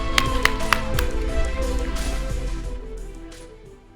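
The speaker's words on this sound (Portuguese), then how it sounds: "Uma salva de palmas para ela também" Audience at a public forum applauding the event director, a short burst of sharp claps near the start that thins and fades out over a few seconds.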